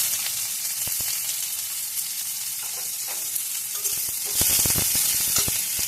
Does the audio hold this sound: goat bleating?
no